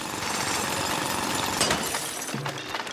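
Drilling and breaking sounds from the Splatoon Raiders video game: a continuous gritty rumble of shattering with harsh grinding bursts, moderately loud and without speech.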